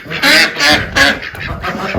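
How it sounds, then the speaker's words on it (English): Ducks let out of their pen early in the morning quack loudly and close by, a rapid run of four or five nasal calls overlapping one another, with rustling between them. "I'm just getting up really early to let the ducks out"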